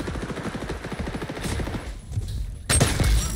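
Sniper rifle fire in the shooter game XDefiant, a loud crack with a sharp onset near the end, over rapid sustained game gunfire and battle noise.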